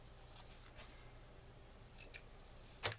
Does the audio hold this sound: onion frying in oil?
no